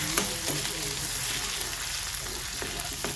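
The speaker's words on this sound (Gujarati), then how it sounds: "તેમાં આપણે સૌપ્રથમ પહેલાં આદુ લસણની પેસ્ટ નાખી દીધી છે. તો એને ઘડીક સતાવા દેવાની છે." Ginger garlic paste sizzles in hot oil in a pan, a steady dense frying hiss with a few stirring clicks, close and fairly loud, with no talking.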